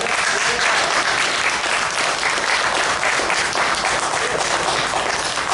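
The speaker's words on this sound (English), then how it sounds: "One more round of applause." A table-reading audience keeps up an even round of applause, many hands clapping close together at steady strength from start to finish, with no voices on top.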